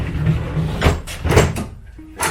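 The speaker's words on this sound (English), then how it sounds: "we're just gonna pull the drawers out" Wooden drawers slide out of a solid wood dresser in several close, scraping pulls with soft knocks between them, loud and near.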